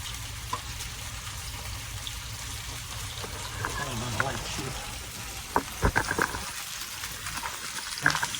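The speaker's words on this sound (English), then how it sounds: "I'm going to cover them up because that grease is popping" Grits mush frying in popping grease in a skillet, a steady sizzle with scattered sharp pops and crackles, fairly close.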